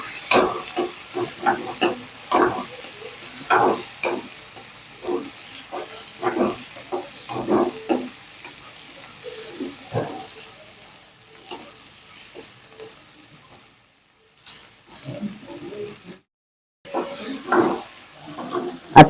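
Potatoes, chillies and chopped tomato fry in a pan for a Marathi breakfast dish, a steady sizzle broken by repeated scraping stirs with short pauses, close and fairly loud.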